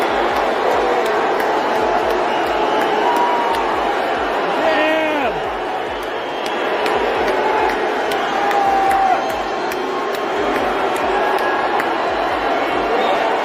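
A large crowd roars continuously, cheering mixed with jeers and whoops as Elon Musk is introduced on stage, with shouting voices rising above the dense noise.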